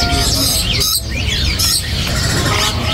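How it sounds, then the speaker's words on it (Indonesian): Parrots, including a Nuri Dora, call at a bird market, where many birds chirp, whistle and squawk loudly and continuously at close range. "Di sini ada yang namanya burung Nuri Dora ya."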